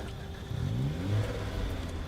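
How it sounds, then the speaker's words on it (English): A car engine in the Project Zomboid video game starts and revs up, a mid-pitched motor surging twice before settling into a steady rumble, loud and close. "Sorry, I had to turn the car on."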